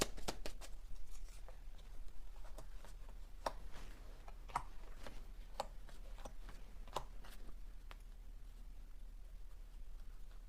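Tarot cards being shuffled for a Capricorn reading, a quiet, steady riffling and flicking of cards with scattered sharp clicks over faint background hum.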